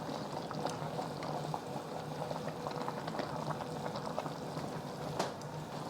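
Water boils at a steady rolling simmer in a pot of Chinese greens, their thick stems and leafy tops cooking together; a continuous close bubbling hiss with small pops runs throughout, with no one talking.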